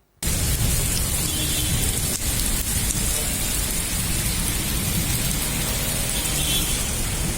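Heavy city rainfall during the first week of Sawan, a dense, steady hiss of rain pouring onto surfaces, loud and unbroken from start to finish with no voices.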